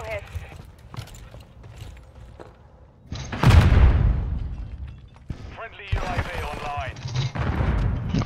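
A mortar strike in a Call of Duty Modern Warfare 3 hardcore team deathmatch lands as a loud, close boom a few seconds in, rumbling as it decays, with gunfire and talking around it.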